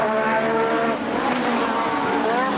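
A 1986 British Grand Prix Formula 1 race car screams past close and loud with a high, rising engine whine, overlapping engine tones from other cars continuing as a commentator talks over it.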